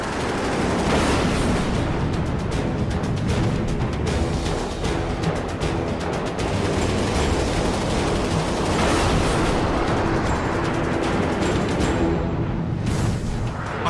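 Machine-gun fire from a fighter jet downing a MiG in an aerial dogfight over the desert: a loud, dense, continuous roar of rapid fire and engine noise that runs unbroken throughout.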